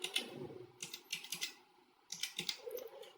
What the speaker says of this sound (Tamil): அந்த எபிக் நம்பரை கரெக்டாக பார்த்து டைப் பண்ணிக்கோங்க